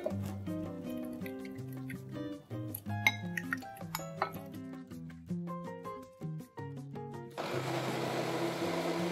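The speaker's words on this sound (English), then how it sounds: "Our soup has cooled down and now we are going to blend it." Blender puréeing cooled red lentil soup, which starts up near the end as a loud, steady whir. Before it starts, a tinkling melodic music track plays alone.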